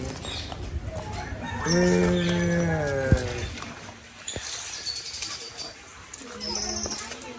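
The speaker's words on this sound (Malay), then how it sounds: "Wih, comel je ayam ni," Chickens on a farm make a drawn-out, high, wavering call heard close, followed by scattered clucks and light knocks, with people talking nearby.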